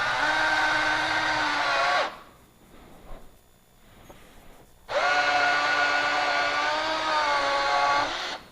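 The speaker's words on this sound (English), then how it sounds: "And you want to drill, like right near the edge through both." A power drill bores near the edge of two stacked tires held together with a C-clamp, in two long, steady whining bursts separated by a quieter pause.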